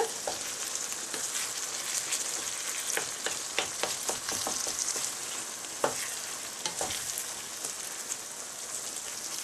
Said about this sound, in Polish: Ładnie to mieszam.